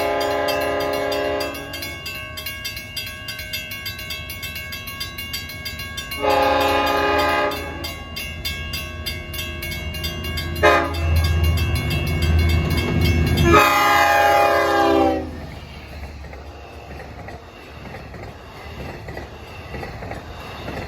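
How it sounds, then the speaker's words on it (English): An LIRR Montauk Branch train, a nine-car set, approaches while its horn blows several long loud blasts in sequence, over rumbling wheels and a brief squeal, then the horn stops and the train rolls past. "approaching now is train 6001, Montauk, Jamaica"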